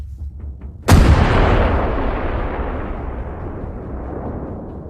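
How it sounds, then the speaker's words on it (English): An M777 howitzer fires a single loud, sharp artillery shot in a war setting in Ukraine. The boom is followed by a long rolling echo that slowly fades over several seconds. "M777 cannons open fire."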